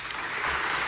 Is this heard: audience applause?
yes